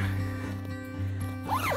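A zipper is pulled closed on the carry bag of a Tentsile Safari Stingray three-person tree tent, a close, continuous rasping zip lasting under two seconds, with a steady low hum in the background.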